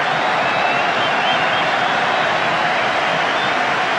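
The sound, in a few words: football crowd applauding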